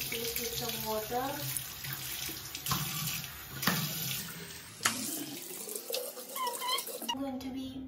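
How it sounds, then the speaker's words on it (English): Running water from a bathroom sink tap splashes as hands scoop it onto a face during a skincare routine, close and irregular, with the stream cutting off near the end. "So I'm going to be splashing my face with some water."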